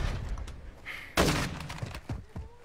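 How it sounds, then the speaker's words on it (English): A flash grenade goes off in the Warzone video game, a sharp loud burst in the middle of the clip followed by scattered thuds and clatter, with game audio underneath. "Throwing flash grenade!"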